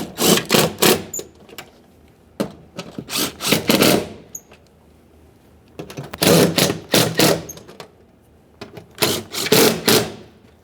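Bursts of rapid ratcheting and whirring from a power tool snug the four window regulator mounting bolts inside the door of a 2009-2014 Nissan Maxima, loud and close, with short pauses between bolts.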